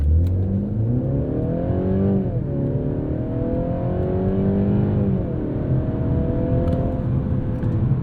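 A 2022 Mercedes-Benz C300 4MATIC mild hybrid sedan engine accelerates hard, its tone rising steadily through several gear changes with brief dips, under constant road and wind noise.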